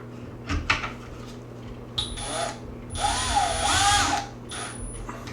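A power drill whirs in several short bursts, revving up and down as it drives screws into a Traxxas Slash 4x4 RC truck, with light clicks between runs.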